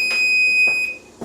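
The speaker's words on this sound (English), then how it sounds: "our time is up, so we'll shut the alarm off" A kitchen timer set while cooking a pot of pickled eggs beeps loudly with a steady, piercing electronic tone that cuts out near the end, followed by brief noises.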